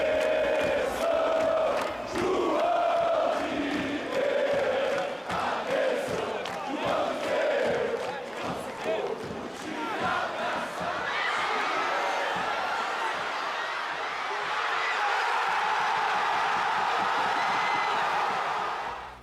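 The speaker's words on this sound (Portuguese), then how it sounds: "a torcida tricolor acredita em uma antiga canção para dar sorte no Mundial de Clubes" A large crowd of football fans in a stadium sings and roars together in a dense, continuous wash of voices, with rising chanting toward the end and no separate speaker.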